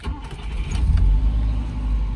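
A 1968 Volvo P1800 S with a 1.8-litre engine cranks and catches, settling into a loud, close rumble that swells then holds steady without talk.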